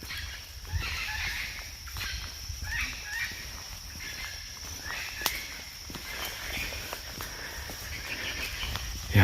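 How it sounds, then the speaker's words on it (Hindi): Birds chirp and call in a jungle in Mexico, scattered small calls over insect buzz and faint footsteps, moderately distant and soft, with no talking. "यहाँ की पंछियों की चहचहाहट सुन रहे हो, कितना सुकून देता है।"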